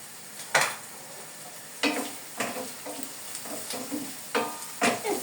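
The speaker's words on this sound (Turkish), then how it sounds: "Ben üç diş sarımsak koyuyorum" Garlic cloves fry with fresh okra in a hot pan, a steady close sizzle broken by several sharp stirring scrapes spaced unevenly throughout.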